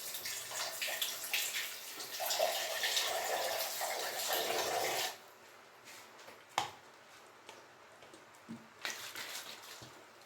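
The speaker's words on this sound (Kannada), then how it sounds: "ಸ್ವಲ್ಪ ನೀರು ಹಾಕ್ತಾ ಇದ್ದೀನಿ." Water pours steadily into a pan of palak and green pea gravy for several seconds, a bright splashing hiss that then stops, leaving a few faint clinks and knocks.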